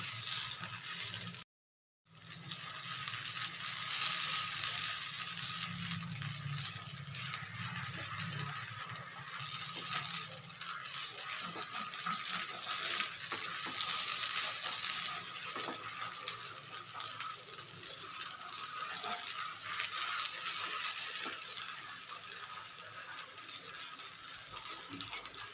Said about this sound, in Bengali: এখন গ্যাসটা মিডিয়ামে করে চালটা আমি মশলার সঙ্গে ভেজে নেব